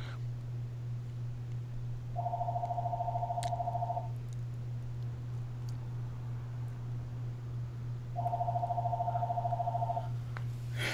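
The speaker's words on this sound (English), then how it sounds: "Hold on, let the phone ring." Telephone ringing in two long electronic trill bursts a few seconds apart, loud over a steady low hum, with no voices.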